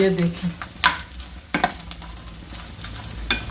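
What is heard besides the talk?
edible gum (gond) frying and puffing up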